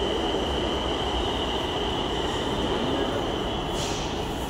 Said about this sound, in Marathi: हे मेट्रो जात आहे